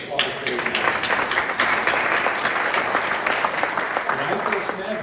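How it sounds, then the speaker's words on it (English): Audience applause at a talk about Pelee Island and the Endangered Species Act, dense and steady clapping from a sizable crowd sustained at full strength throughout. "I want to give her applause for that."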